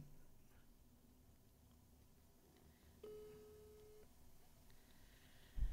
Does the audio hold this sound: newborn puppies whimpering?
no